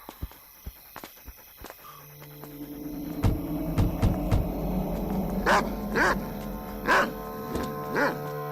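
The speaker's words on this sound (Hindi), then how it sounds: "ये आज इतना भौंक क्यों रहा शायद है?" A dog barks in a series of sharp, loud calls during the second half, close by, after hurried background speech and footsteps.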